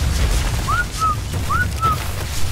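Two short repeated whistle calls, each a rising then level two-note pattern, from a player in ARK Survival Evolved calling tamed dinosaurs, clear and moderately loud over a low rumbling game background.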